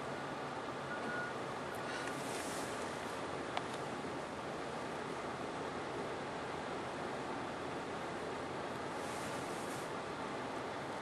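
Sea waves break against a quay at high tide in Rimouski, giving a steady, broad rushing wash with faint surges of spray and some wind noise. No one speaks.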